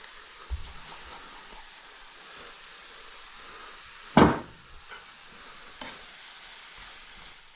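Softening onion with coriander, cumin and chilies frying in a pan, a soft continuous sizzle with a sharp scrape of stirring midway and a faint clack near the start.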